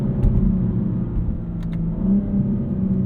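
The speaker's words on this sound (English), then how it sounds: "Perfectly rev matched downshifts there." A 2022 BMW M4 Competition xDrive's engine rumbles and whirs steadily from inside the cabin, with brief rising blips as it rev-matches through downshifts, close and moderately loud with no talk.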